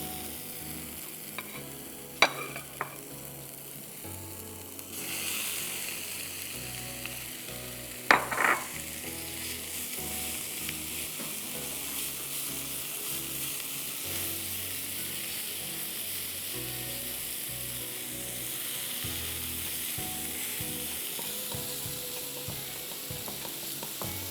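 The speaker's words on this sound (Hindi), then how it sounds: "कीमा डाल दीजिए" Minced meat sizzles and fries in a pan while it is stirred, with steady crackling throughout and a few sharp scraping clanks of the utensil against the pan.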